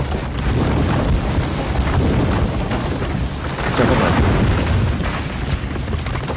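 Cave collapsing in a scene from the TV series LOST, a sustained loud, dense rumble with crashing debris that swells and churns continuously without a break.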